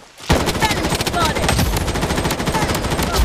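Rapid automatic gunfire in the battle royale video game Project Blood Strike, a loud dense burst of overlapping shots starting abruptly after a brief quiet moment and continuing steadily to the end.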